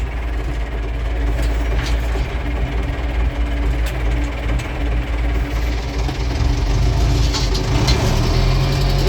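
Tractor engine running steadily while working a field being prepared for oats, a loud, close, continuous low rumble with a rattling, knocking texture and no talk over it.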